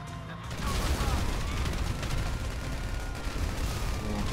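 Dense bursts of explosions and rapid gunfire from the GTA 5 Online video game crackle continuously in a loud, chaotic barrage.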